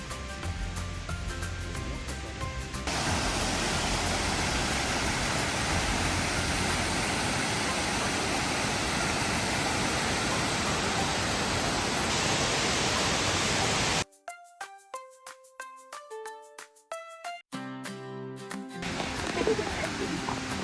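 Shiraito Falls in Shizuoka, with Mount Fuji in view, gives a steady, loud broadband rush of falling water for about fourteen seconds, then abruptly gives way to a plucked melodic tune.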